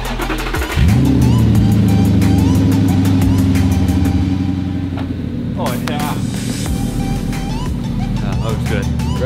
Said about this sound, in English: Dave, you ready to take your car for its inaugural run